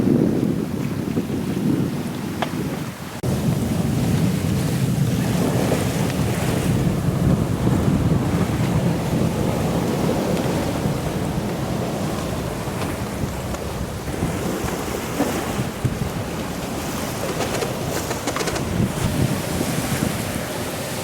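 Wind and ocean waves rush past a sailboat running downwind under spinnaker toward San Juan, surfing at close to 9 knots in 12 to 14 knot winds. Loud, steady wind buffets the microphone over continuous wash and surges of water.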